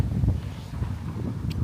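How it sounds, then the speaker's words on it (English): Strong wind blows across an open farm campsite in North Yorkshire, buffeting the microphone with steady, loud rumbling gusts throughout. "It is seriously windy, so I apologise in advance."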